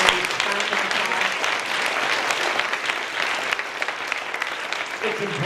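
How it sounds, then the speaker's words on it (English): Sustained round of applause from an audience at a school board meeting honoring elementary school staff, steady dense clapping throughout at moderate loudness with faint voices underneath. "please stand so we can give everyone a round of applause."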